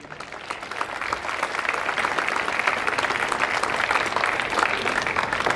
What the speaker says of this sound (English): a special round of applause for the registrations team who held the front line and made today possible